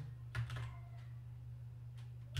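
GW-BASIC code is typed on a computer keyboard in a school lesson, with a few faint, scattered keystrokes clicking close by in a quiet room.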